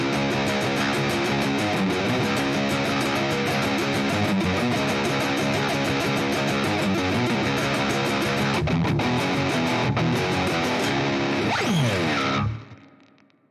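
Dense, sustained electric guitar riff recorded cleanly through an Audient audio interface, playing loud and steady for about twelve seconds before cutting off abruptly and fading into silence, with no voices.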